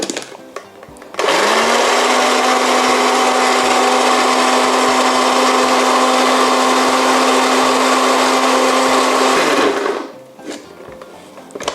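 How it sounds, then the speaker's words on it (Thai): A blender whirs loudly and steadily for about nine seconds, puréeing beetroot into a smooth pink salad dressing, starting and stopping abruptly with quiet room sound around it. "เราปั่นจนกระทั่งตัว หัวบีดเนี่ยค่ะ กลายเป็น ละเอียดนะคะเป็นชิ้นเล็กๆค่ะ ปั่นต่อเลยค่ะ"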